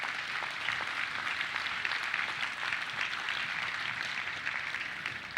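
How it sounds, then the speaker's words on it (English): At the groundbreaking ceremony for the Cavaliers and Cleveland Clinic Global Performance Center, an audience claps in a steady, even round of applause that holds at constant strength and fades slightly at the end. "round of applause for that."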